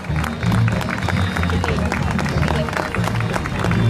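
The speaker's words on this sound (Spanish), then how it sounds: "Claro que sí, el aplauso." Crowd applause for a special school passing in a 25 de Mayo parade, steady clapping mixed with crowd murmur and a loud outdoor babble throughout.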